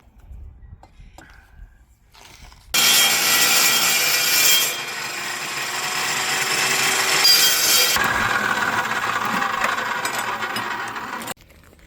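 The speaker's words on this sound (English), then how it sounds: "Running power tools." A power tool saws through wood during a home build. After quiet, faint handling sounds, a loud rasping cut runs for about nine seconds with a brief dip partway, then stops abruptly.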